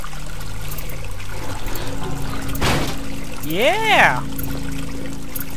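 Running water in White Night, a steady pouring hiss throughout at close range, with a sharp knock midway and a man's excited exclamation near the end.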